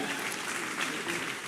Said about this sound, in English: Can we give one more round of applause to Dr. Ogunleye?